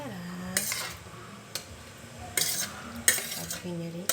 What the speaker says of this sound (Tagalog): So, halo-haloin natin siya para kumalat ang itlog na binati ko.